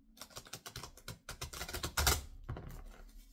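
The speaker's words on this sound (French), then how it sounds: "cette fois-ci, c'est pour mélanger les cartes." Playing cards being shuffled during a tarot-style card reading, a rapid run of crisp riffling clicks and flutters up close, with a louder burst near the end and no talk.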